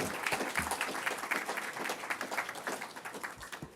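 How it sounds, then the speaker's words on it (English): A conference audience applauds its panelists with a moderate, steady burst of many hands clapping at fairly close range, holding through most of the moment and then tapering slightly. "Can we get another round of applause for our panelists?"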